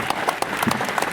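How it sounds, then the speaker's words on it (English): A brief burst of dense audience clapping and applause fills a Comic Con panel room at MCM Birmingham 2018, loud and close. "please join me in giving a massive round of applause to our panellists today"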